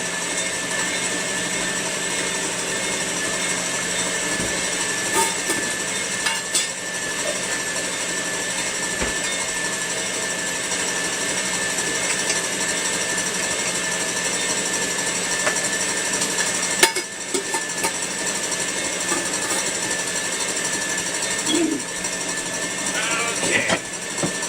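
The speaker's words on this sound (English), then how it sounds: "Now, I'm going to get the old wire whisk going here for the meringue and the old KitchenAid." A KitchenAid stand mixer whips meringue with a wire whisk, giving a steady, loud motor whir that runs unbroken throughout with only slight variation in pitch and level.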